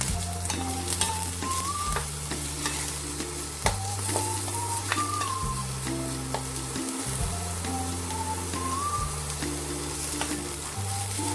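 Onions frying in oil for a chana masala curry: a continuous broadband sizzle with occasional stirring clicks, heard beneath steady background music.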